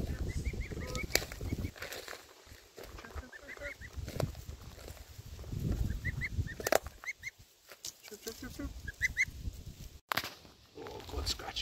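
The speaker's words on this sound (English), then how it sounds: "The goose was like, back off." A goose on a homestead orchard honks in short repeated bursts amid rustling and wing flaps, close by, while a person talks over it.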